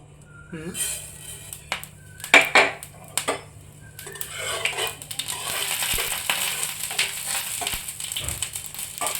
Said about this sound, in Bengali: এখানে আমি কালো সরষেটা দিয়ে দিব